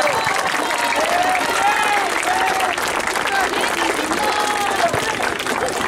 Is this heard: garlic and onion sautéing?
no